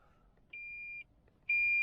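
Toyota GR Yaris lane track assist warning beep, two clean electronic tones inside the car, the first about half a second long and the second starting right after a short gap, loud and close in a quiet cabin.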